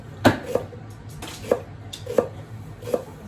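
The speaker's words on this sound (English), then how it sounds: "So you want to cut your long onion in" A knife chops a long onion on a cutting board for miso soup, five or six crisp, evenly spaced close knocks with no talking.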